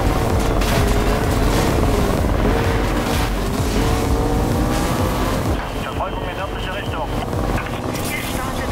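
A police helicopter rotor thrums loudly in the Need for Speed Rivals racing game, layered with roaring car engines throughout, the mix thinning slightly near the end while a distant tone lingers.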